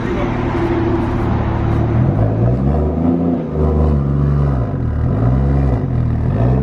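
A single-turbo BMW 335i engine revs hard on a dynamometer, its loud, close drone sweeping up and down in repeated pulls, with voices heard faintly beneath.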